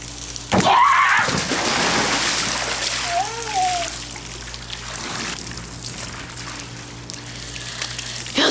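Water splashing and running from a tap into a basin, a brief burst at first then steady trickling, with voices briefly heard over it.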